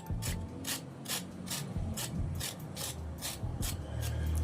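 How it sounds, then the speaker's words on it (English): Carrot being peeled by hand: a rapid series of about a dozen crisp, scraping strokes in an even rhythm, close and quiet, with faint background noise. "I'll start with peeling off the skin of this carrot"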